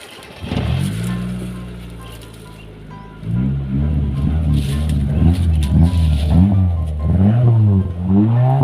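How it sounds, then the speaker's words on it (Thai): A Mitsubishi Lancer Evo with a muffled, quiet exhaust starts up close by and settles into a steady idle, then is revved repeatedly in rising and falling blips, loud and near. "ขอสตาร์นะครับเดี๋ยวฟังเสียงกัน"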